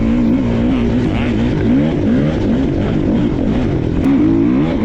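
A 450 dirt bike engine races through tight, rutted single-track woods at a hare scramble, loud and close throughout with a steady wavering drone as the throttle rises and falls.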